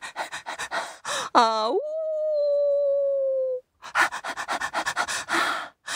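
A voice imitates an old brown dog lying by the road and panting, with quick rhythmic breathy puffs, then a long rising and falling whimpering howl, followed by storytelling speech.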